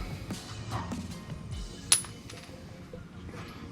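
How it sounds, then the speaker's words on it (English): A broken bolt from a 1986 Toyota Land Cruiser FJ60 drops with a single sharp metallic clink, close and brief amid quiet workshop background. "Broke a bolt."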